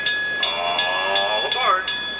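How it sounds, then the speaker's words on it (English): Passenger train pulling in to load at a station: a loud, close steady tonal ring with evenly spaced metallic clanks repeating about three times a second. "The 1040 train is now coming down to load."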